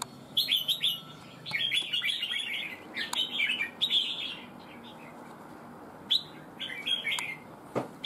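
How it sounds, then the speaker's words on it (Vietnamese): A caged red-whiskered bulbul sings in bursts of bright, warbling chirps, several short phrases separated by pauses, fairly close and clear over faint background noise. "Con chim này có bộ gáy cũng đẹp nhá các bác nhá."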